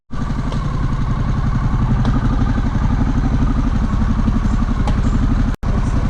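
A Harley-Davidson Pan America 1250 motorcycle rides past traffic near a railway crossing, its engine a steady, loud, close throb that continues almost without a break and cuts out briefly near the end.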